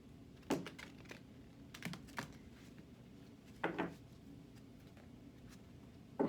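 Stiff tarot cards are shuffled indoors in a few short, crisp riffling bursts separated by quiet pauses, faint and close, with no talking.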